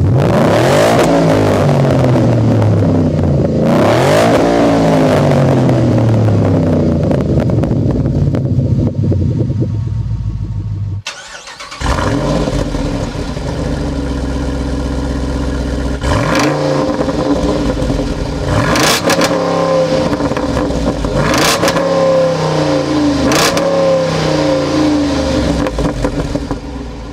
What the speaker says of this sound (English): as far as the exhaust goes, I have to say that Mustang Coyote sounds fantastic